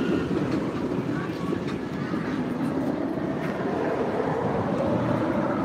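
The Superman roller coaster train at Six Flags Great Adventure rumbles past as a steady, loud roar with faint rail clatter throughout, heard from near the park fence.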